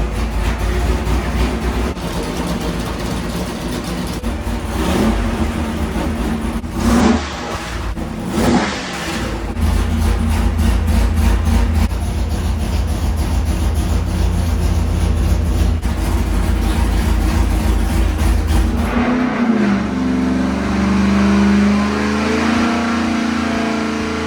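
A 427 engine in a Chevy Nova roars under a sustained pull on a dyno, heavy and loud up close. Two brief lifts break the run, and the engine falls back to a rough, lumpy idle near the end.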